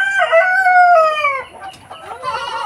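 Caged free-range chickens at a backyard farm make a loud, close rooster crow, then scattered clucks and squawks.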